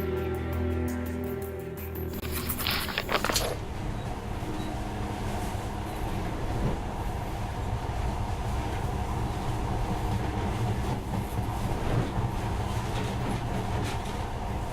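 Monorail train riding in the video game Metro Last Light, a steady rumbling rail ride with rolling low-frequency noise and faint rhythmic rattling throughout, preceded by a brief burst of mechanical noise near the start.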